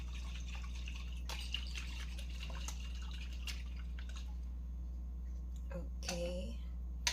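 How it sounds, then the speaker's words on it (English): Water trickles and drips into a container in a kitchen, a faint steady stream over a constant low hum, ending with a brief louder splash near the end. "Just put water here inside."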